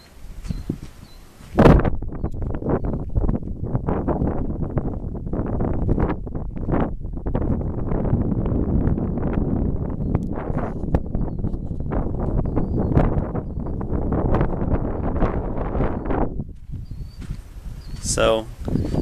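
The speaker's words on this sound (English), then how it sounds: "It's a little windy, so bear with me." Gusty wind buffets a microphone almost continuously at a rifle range, producing low rumbling bursts with a few brief louder knocks.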